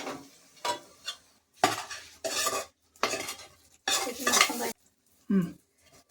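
Kodi palav being mixed in a pot, chicken gravy stirred through rice: intermittent bursts of a spoon scraping and clinking against the pot, with short quiet gaps between strokes.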